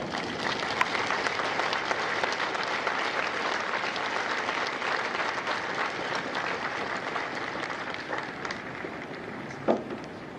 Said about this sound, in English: join me in a round of applause to recognize everything that you have done to